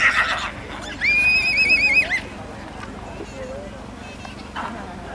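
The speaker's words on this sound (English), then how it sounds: "And I think that the foal is Llanallen Mist, a show-winning daughter of the foundation stallion Kidnell Mikado" A horse foal gives a loud, wavering whinny close by, with a shorter neigh following later and soft hoof clip-clops in the background.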